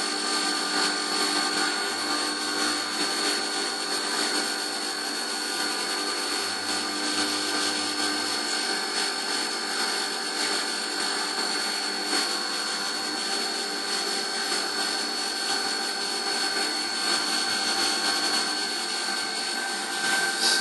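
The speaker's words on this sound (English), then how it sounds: "Now the 4mm cutter's coming in and it's going to do the inside of those pockets and make those all nice and smooth." A CNC mill runs a 4mm cutter through the insides of pockets on an FX-4WD top arm, giving a steady, loud high-pitched machining whine that holds throughout with no talking.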